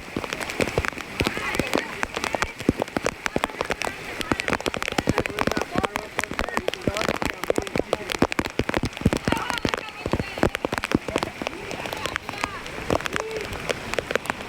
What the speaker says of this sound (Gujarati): પાણી ફૂલ વરસાદ થાય છે જોઈ શકો છો મિત્રો